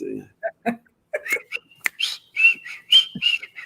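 Someone whistles the Andy Griffith Show theme in short, choppy phrases of high notes, with brief gaps and a few soft clicks between them.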